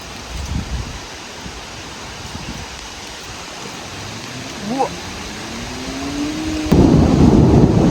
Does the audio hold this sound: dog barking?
no